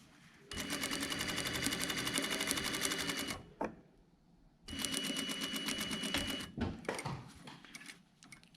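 A sewing machine runs in two steady bursts of rapid, even stitching as it sews a seam on a jacket front with a double piped pocket and flap, separated by a short pause and ending in brief stop-start stitches.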